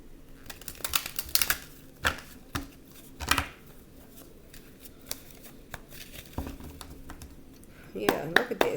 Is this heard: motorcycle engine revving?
no